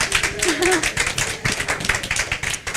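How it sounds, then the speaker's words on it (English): A church audience claps for Natalie, a composer, the uneven clapping rising and falling in bursts while a voice briefly talks over the first second. "So just everybody please give Natalie applause because this girl is amazing"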